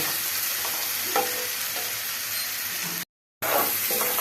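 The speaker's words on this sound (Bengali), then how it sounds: "যতক্ষণ না তেলটা ছেড়ে দিচ্ছে ততক্ষণ আমাদের এই মশলাটা খুব ভালো করে কষিয়ে নিতে হবে" Spice masala fries in oil in a home kitchen, a loud steady sizzle with a few stirring scrapes, broken by a brief silent gap near the end.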